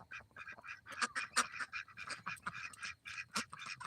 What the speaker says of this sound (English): I'm going to show you a quick screen thing of my duck coming up to me